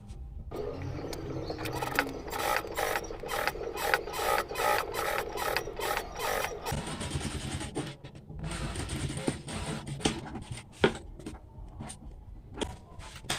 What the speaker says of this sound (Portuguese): eu vou passar a costurinha na beiradinha